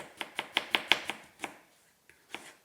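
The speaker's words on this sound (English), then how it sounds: "normally I know you have seen that I've been chopping very thin." A knife chops through potato on a cutting board in a home kitchen, landing a quick series of about eight crisp, close taps, then a pause and a few sparser cuts.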